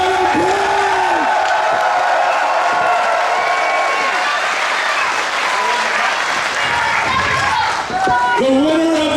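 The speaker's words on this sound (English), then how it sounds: "An AEW round of applause for the man right here, Hangman Page!" Arena crowd at an AEW wrestling show applauding and cheering for wrestler Hangman Page, a loud sustained roar of clapping with whoops, while an amplified announcer's voice rings out over it.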